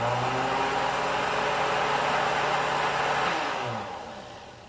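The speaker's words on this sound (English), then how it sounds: "it's better to use an electric blender" An electric blender whirs steadily as it purées a chicken liver sauce, a loud, continuous motor whine that spins down and fades near the end.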